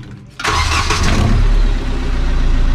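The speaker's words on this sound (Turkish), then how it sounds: "bağlantıları yapıldıktan sonra birazdan marşımıza basacağız hayırlısıyla." A car engine fitted with a cutout exhaust cranks and catches, then settles into a loud, steady rumble close by, with no talking.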